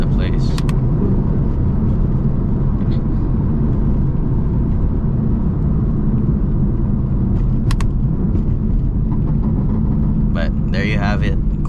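A BMW M car on a drive, with steady, loud engine and road rumble filling the whole stretch and a few brief higher noises mixed in near the end.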